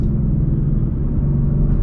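A warmed-up Ford Mustang GT with paddle shifters rumbles steadily while downshifting on the road, a loud, continuous low engine drone with no distinct revs, no voices.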